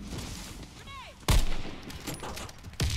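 Gunfire in a first-person video game shooter, two loud, sharp close shots about a second and a half apart over busy game background noise.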